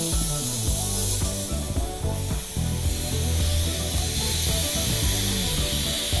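Lizard Skin sound deadening sprayed at full pressure inside a Mazda RX-7 FC3S, a dense continuous loud hiss and rush running steadily throughout with no gaps.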